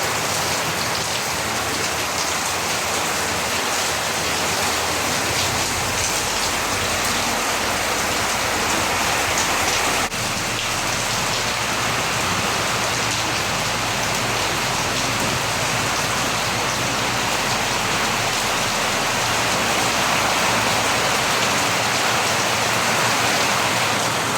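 Heavy typhoon rain from Typhoon Kristine in Camarines Norte, falling steadily on a roof as a loud, dense, continuous hiss that persists unbroken throughout.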